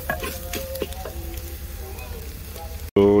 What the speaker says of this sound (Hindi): ये ऐड कर देंगे और इनको थोड़ा सा भून लेंगे